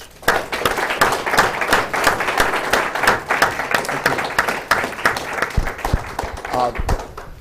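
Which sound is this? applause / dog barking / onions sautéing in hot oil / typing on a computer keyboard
applause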